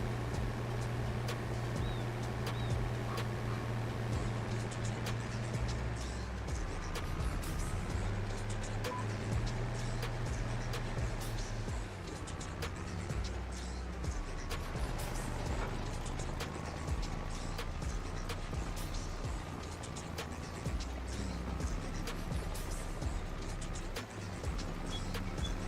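An old tractor in Farming Simulator 25, fitted with steering assist, drives across a field, giving a steady, droning engine hum with low rumbling harmonics that holds without a break for about 25 seconds.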